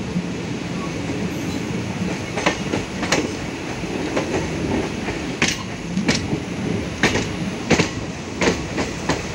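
Onboard the Tirupati-Puri Express as it arrives at Khurda Road Junction, the train rumbles steadily on the rails, with repeated clickety-clack wheel beats over the joints and a constant loud roar around them.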